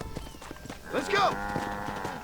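Cattle herd mooing in the Red Dead Redemption video game, a drawn-out low moo rising near the middle over a steady background of game ambience and faint hoof-like clops.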